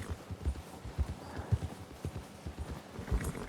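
Horse hooves clip-clopping along a trail in Red Dead Online, a steady walking rhythm of soft, close hoofbeats repeating about twice a second with no talk over it.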